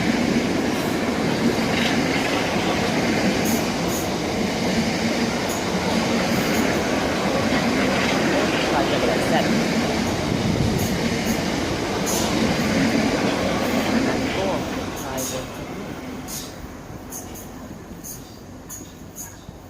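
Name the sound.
Southeastern train from London Charing Cross to Gillingham passing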